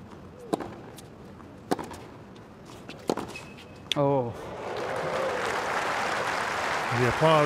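Crowd applause breaks out at a 2019 Western & Southern Open tennis semifinal between two players, swelling into a steady clapping wash after several sharp ball strikes and court footsteps, with commentator talk over it.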